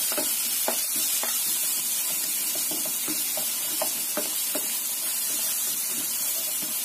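Ground spice paste sautéing in hot oil: a steady, close sizzle and hiss with scattered soft scrapes and taps of a spatula stirring the pan, no voices.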